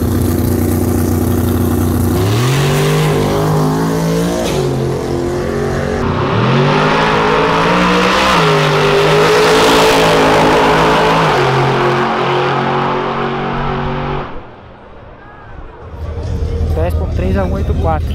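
A Lamborghini runs a drag strip, its engine climbing through rising revs across several gear changes, loud and close, then easing off as the driver lifts, with a brief dip before the engine noise returns.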